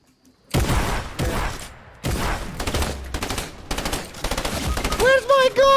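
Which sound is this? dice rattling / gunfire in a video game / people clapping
gunfire in a video game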